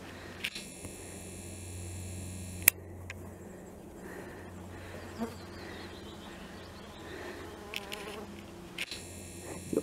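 A fly buzzes close by during a forest walk in the Harz, a continuous droning whine that rises and fades as it moves, over soft outdoor background noise with occasional faint clicks.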